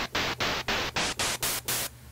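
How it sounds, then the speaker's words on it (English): Harsh synthesized white noise made in Logic hisses in seven rhythmic bursts separated by brief gaps, loud and steady, like a gated static pulse. "I make a lot of my hi-hats using white noise"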